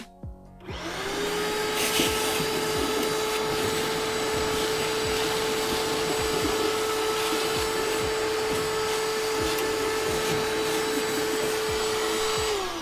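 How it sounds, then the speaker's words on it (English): A shop vacuum starts up and runs steadily with a loud, sustained motor whine, punctuated by clattering debris, dust and ash being sucked out of a Traeger pellet grill. "now I'm going to use my handy little shop vac, and I'm just going to vacuum out all the dust"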